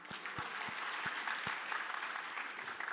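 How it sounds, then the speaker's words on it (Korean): A church congregation claps during a Sunday worship service, a few loud, slow, separate hand claps at the start, then a softer patter of scattered clapping, fairly distant and short. "우리 하나님 은혜에 감사의 박수 드립시다"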